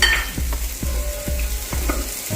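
Squid sautéing with chilli, coriander and turmeric powders sizzles steadily in a pan while a spoon scrapes through it about every half second, close and clear with no talk.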